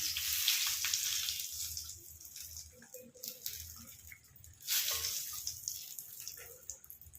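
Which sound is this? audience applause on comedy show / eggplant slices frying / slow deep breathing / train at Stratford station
eggplant slices frying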